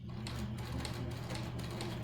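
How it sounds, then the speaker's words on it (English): A sewing machine stitches a face mask seam forward and then in reverse, producing a quick, rhythmic mechanical chatter at moderate loudness, heard close up with no talking. "going to do a forward stitch and a back stitch"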